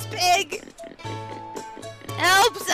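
A pig oinks in loud, grunting bursts at the start and end, with a voice talking in between; the oinks may be a voice imitating a pig.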